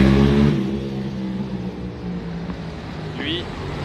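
A car engine revs and then drops to a rumbling idle in central Monaco. The loudest burst comes at the start, with a brief whine near the end.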